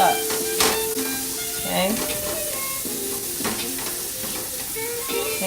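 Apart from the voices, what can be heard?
garlic and vegetables sizzling while stirred in a frying pan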